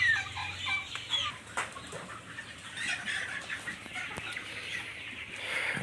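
Sonali chickens cluck and call on a poultry farm. Overlapping bird voices form a busy, continuous background, with occasional wing flaps at moderate distance.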